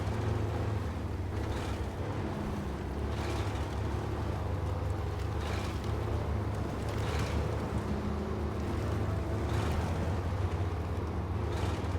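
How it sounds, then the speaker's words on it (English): A truck engine in the video game SnowRunner drones steadily at low pitch throughout, a constant rumbling hum with faint windy texture and no talk over it. "I love the sound that this engine makes"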